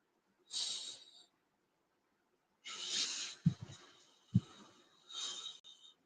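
A person huffs several breathy breaths with a hissing, airy texture, separated by pauses, plus two short low thumps like small coughs; close and fairly quiet, no talking.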